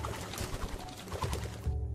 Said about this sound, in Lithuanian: Visame pastate užsiveisė šimtai balandžių, todėl patalpų dvelkas išskirtinis, o paukščių plazdenimas vaikštant visų kuria išgąsčio efektą.